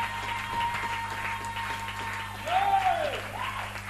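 A church congregation applauds at an event, steady clapping that swells slightly near the end, with a faint background hum and a few brief tones underneath.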